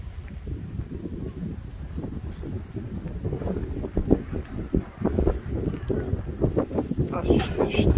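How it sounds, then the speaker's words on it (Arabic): Strong wind buffets the microphone in a steady low roar at Al Hoceima, with gusts building toward the end and a few faint voices mixed in. "الشتاء والريح، الريح مجهد"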